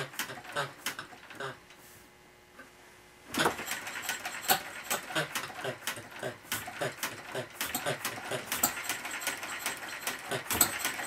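An International Harvester hit-and-miss engine is flipped over and catches, settling into an irregular mechanical chugging and clattering after a quiet pause, close by with faint voice at times.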